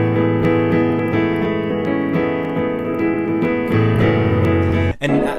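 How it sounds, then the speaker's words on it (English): Upright piano demo recorded on a phone, with sustained chords and a melody line played continuously and fairly loud, ending with a brief pause and a final low chord. "So this is the piano sound you hear."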